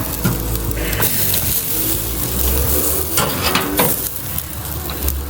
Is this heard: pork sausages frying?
yes